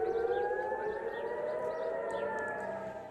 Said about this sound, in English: air raid sirens have been heard across Israel